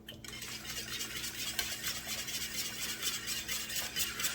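Flour-and-water slurry being stirred into pot roast gravy in a pot, a steady soft scraping and swishing of the utensil that runs continuously and alone.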